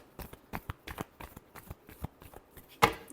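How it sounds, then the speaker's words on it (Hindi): Tarot cards being shuffled by hand, a run of quick papery riffles and taps in an irregular rhythm, close and soft, ending in one sharper snap. "last shuffle"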